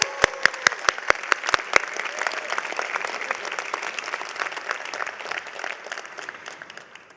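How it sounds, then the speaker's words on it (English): Audience applause at a university College of Medicine commencement ceremony, a broad steady wash of many hands clapping that opens with a few sharp loud claps and carries on evenly for several seconds. "please give all your families and friends today a round of applause and thank them for supporting you for all 4 years"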